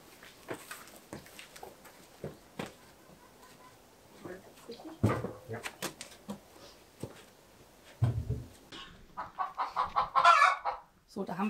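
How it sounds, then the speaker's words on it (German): A hen in a henhouse cackles after laying an egg, a series of loud clucking bursts that grow toward the end, with a person talking quietly in between. "da haben wir jetzt gerade das Eierlegegeräusch"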